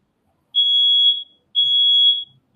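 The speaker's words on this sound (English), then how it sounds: "That alarm system is smoke detector." A smoke detector alarm sounds two long, loud, shrill high-pitched beeps, each lasting about three quarters of a second with a short gap between them, and no talking around it.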